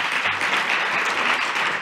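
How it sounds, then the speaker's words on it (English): Audience applause at an MLK Jr. oratory competition in Chicago, a dense, steady wash of many hands clapping that fills the whole moment without pause. "Give yourselves a big round of applause."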